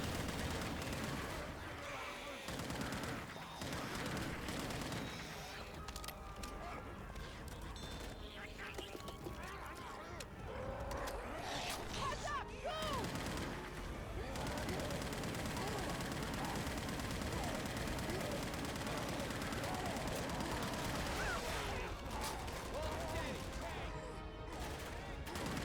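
An M60 machine gun fires in Left 4 Dead 2 during a chaotic expert-level zombie fight, with long rattling bursts, other weapon noise and clanking mechanisms running throughout, and a player's voice coming through now and then.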